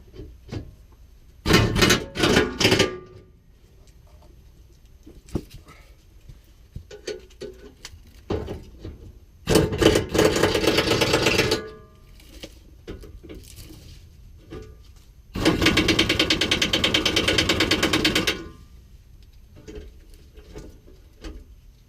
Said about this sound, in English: I'm just going to turn my air gun to forward, and we'll tighten it down.